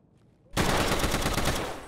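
M1A rifle gunfire in the video game Escape From Tarkov, a loud burst of rapid shots that starts abruptly after a brief quiet moment and then continues as a dense, close volley.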